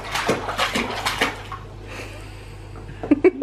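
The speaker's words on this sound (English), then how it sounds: "Making all the splashes" Water splashing in a baby's bath at home, a run of soft sloshes and splashes early on, then a quieter stretch ending in a few sharper close splashes.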